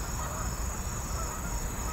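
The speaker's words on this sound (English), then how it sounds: "Can you hear those geese in the background?" Geese honk faintly in the distance over a constant roar of freeway traffic beside an RV park and a high steady whine.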